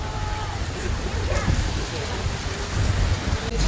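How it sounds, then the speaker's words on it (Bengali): Heavy rain pours during a storm with strong wind, forming a loud, dense, steady roar close by that swells toward the end, with no clear voices. "প্রচন্ড বৃষ্টি হচ্ছে তো।"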